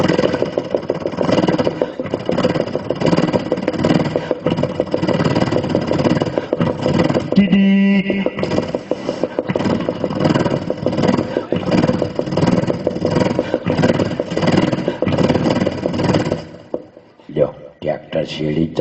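A tractor engine running with no lights, a steady mid-pitched rumble that holds loud and close for most of the stretch, then drops away near the end, leaving brief clatters.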